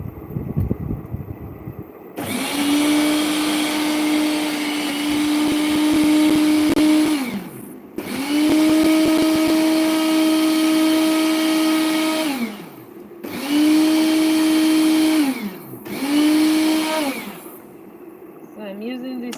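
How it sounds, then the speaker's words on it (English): A small kitchen blender whirs through tomato gel in four loud bursts of several seconds each, the motor's pitch dipping as each run winds down, with short pauses between. "I'm blending the gel. It's a tomato gel."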